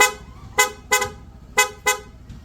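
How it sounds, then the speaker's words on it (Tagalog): Four sharp, loud horn toots from a Honda ADV160 motorcycle's rapid-mode horn, in two quick pairs, each short burst separated by brief pauses, with no talking. "Para mag-activate ang rapid, long press yun lang po itong horn button."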